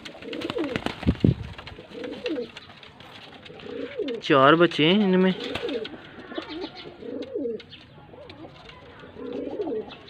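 Pigeons coo in soft, throaty bursts, one loud warbling coo standing out midway, while someone talks nearby, at a pigeon loft in Faisalabad.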